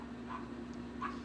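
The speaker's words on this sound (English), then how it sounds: "See, the dog, Jack's upset." A dog named Jack barking and yelping outside during a tornado storm, two faint distant bursts over a steady low hum of wind and rain.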